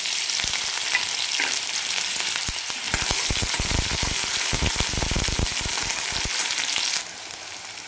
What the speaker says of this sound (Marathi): त्याच्यामध्ये आपण आता थोडंसं जिरे टाकणार आहे आणि एक कांदा टाकणार